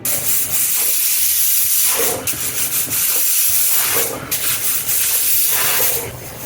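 A pressure cooker hisses with loud, steady venting steam while cooking black chickpeas, a rough rushing sound that swells and dips a few times.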